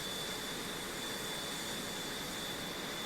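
A jet plane engine in a flight video game roars as a steady, dense broadband rush at moderate loudness, unchanging throughout with no speech.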